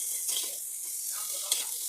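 Potato pieces added to onions already browned with salt sizzle steadily in a hot pan, a close, even hiss broken by a couple of brief stirring scrapes.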